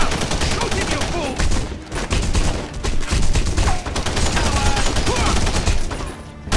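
Dense, continuous gunfire fills a firefight in The Punisher PC action game, with rapid overlapping shots and heavy bursts throughout, mixed with faint shouted voices.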